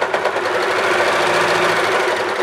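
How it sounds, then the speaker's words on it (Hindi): An Usha Janome Allure sewing machine runs a zigzag stitch, its needle chattering in a fast, steady mechanical rhythm that stays loud and close throughout with no pauses. "जिगजैग सिलाई हो रही है।"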